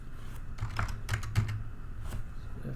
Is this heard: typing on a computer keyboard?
yes